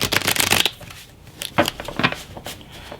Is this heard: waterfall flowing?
no